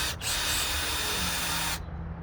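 Power drill driving a self-drilling screw while building a pull-up bar, a single close, steady high whirring burst that runs for nearly two seconds and then stops.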